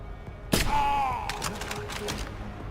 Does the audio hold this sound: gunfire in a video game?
yes